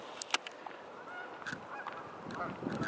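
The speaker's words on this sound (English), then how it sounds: "They're called geese. So nothing exotic, except Canadian geese." Canada geese honking at a lake in a Chicago-area forest preserve, a few scattered honks at a moderate distance over quiet outdoor ambience.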